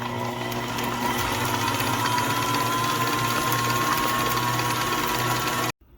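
An electric mixer beats creamy pumpkin spice chocolate truffle cheesecake batter in a steady, loud motor whir with a rattling edge, running continuously before cutting off abruptly near the end.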